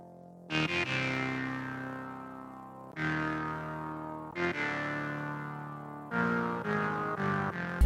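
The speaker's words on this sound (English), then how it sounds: "Then we have a second bass sound coming in," Second synth bass layer from an ARK Rotobuzz patch in Repro 5, played octaves up with bright distortion and effects, recreating a song; three sustained phrases of buzzy, chorused tones with no voices.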